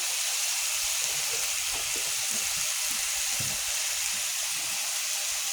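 Masala spices with onion, turmeric and salt fry in a pan for rui fish curry, a steady close sizzle and hiss with soft stirring scrapes underneath, continuous and fairly quiet.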